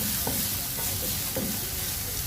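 Sliced onions fry in a hot pan for a fish dish, a loud, dense, continuous sizzle with a few soft scrapes from the stirring spoon.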